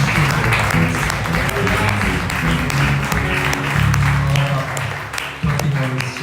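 A church congregation claps and cheers in praise, a dense, continuous wash of applause mixed with voices and music that holds steady throughout, dipping briefly near the end.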